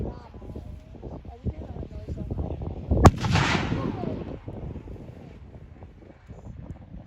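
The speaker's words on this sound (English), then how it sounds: "The Germans still have some heavy firepower as the Pak-40 fires on those advancing Allies." A Pak-40 anti-tank gun fires once during a WW2 battle reenactment, a single sharp blast echoing over an open field amid wind noise, distant rumbling and crowd voices.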